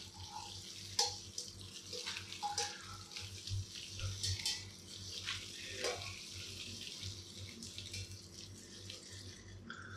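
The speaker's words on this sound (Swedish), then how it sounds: "det är att vi ska få lite spridning på vattnet som vi häller i här." Water is poured over malt for home beer brewing, giving a continuous splashing, trickling flow with occasional louder gurgles, close by and without talking.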